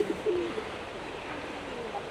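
Birds at a lakeside golf club in England, with pigeons or doves giving a few soft coos near the start, then faint calls over a steady outdoor hiss.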